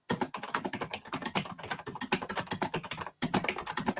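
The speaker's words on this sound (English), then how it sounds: "You can hear me typing there, can't you?" Rapid typing on a computer keyboard, close up, a dense stream of crisp clicking keystrokes with one brief pause, no voices.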